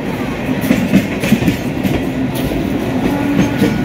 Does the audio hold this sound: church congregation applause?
no